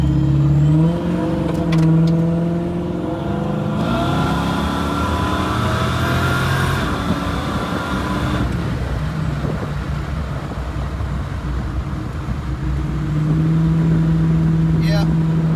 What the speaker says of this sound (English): The car runs wonderful.